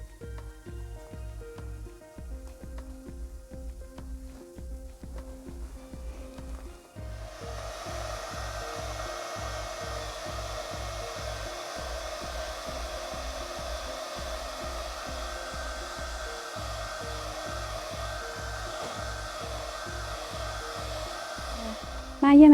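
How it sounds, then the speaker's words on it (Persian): A hair dryer blows steadily on a sheepskin bag to warm and melt animal ghee inside. It starts with a quieter pulsing whir, then jumps to a constant loud hiss for most of the clip and ends in a sudden burst. "من یه مقدار این هیزه رو با سشوار گرمش کردم که این روغن کامل روون بشه"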